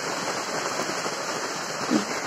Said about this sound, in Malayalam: ഇതാ മഴ പെയ്തുകൊണ്ടിരിക്കയാണ്.